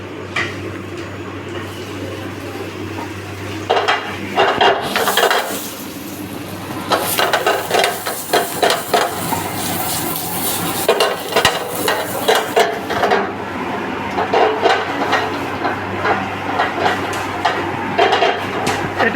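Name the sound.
vegetables frying and being stirred in a pan for quesadilla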